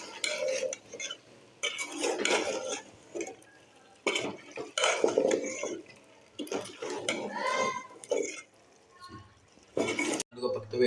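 A spoon stirs potatoes and radish pods in a cooking pot, scraping and clinking in short repeated bursts with pauses, close and fairly loud, while someone talks over it.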